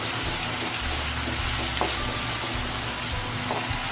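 Ginger garlic paste fries in a hot pan with a steady, dense sizzle and crackle, loud and close throughout, with a few faint knocks partway through.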